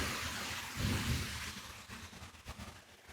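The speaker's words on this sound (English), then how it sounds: "I've got the rain in the background" Steady rain hisses outdoors, a soft broadband wash with faint low rumbles, moderately quiet and continuous throughout.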